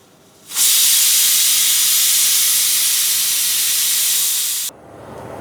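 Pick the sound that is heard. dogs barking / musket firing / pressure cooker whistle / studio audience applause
pressure cooker whistle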